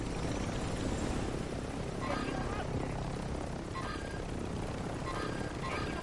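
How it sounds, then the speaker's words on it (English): Helicopter rotor drone from Call of Duty: Warzone, a steady broadband whir throughout with no clear break, heard beneath intermittent voices talking over it. "I got this fucking chopper."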